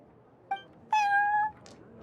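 Cat named Prince in a video game gives a short chirp followed by a longer clear meow, close and distinct against a quiet background.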